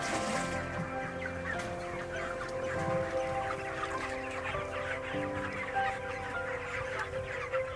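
Chickens on a poultry farm cluck steadily, a dense flock chorus of overlapping calls with occasional louder squawks, continuous and close throughout with no talk.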